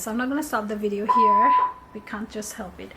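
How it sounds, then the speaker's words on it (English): A steady electronic fire alarm tone sounds for about a second during an all-day alarm test indoors, partly masked by a person talking over it. "and that's the fire alarm."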